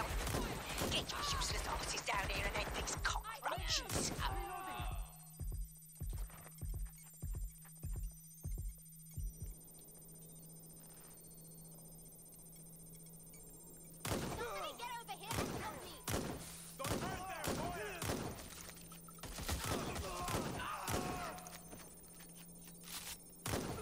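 Shotgun blasts from the Watch Dogs Legion video game, heard as a run of sharp, loud, evenly spaced shots early on, then another burst of heavy shots later, with game sounds and a voice in between.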